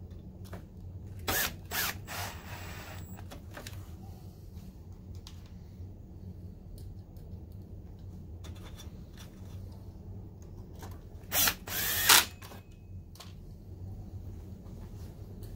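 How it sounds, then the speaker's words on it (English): A power drill drives screws back into a DLP projector's casing, with a few short whirring bursts over a low steady hum, louder around the middle. "Let's put these screws back."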